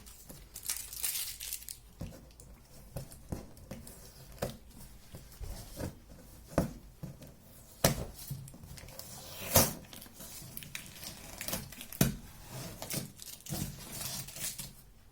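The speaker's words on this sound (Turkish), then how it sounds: "Bu bantları bir çıkarıyoruz." Strips of tape are peeled off a cardboard pan lid, giving a long run of crackling, tearing rips and sharp snaps at irregular intervals, close and fairly loud with no speech.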